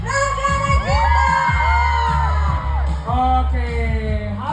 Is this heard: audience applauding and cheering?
yes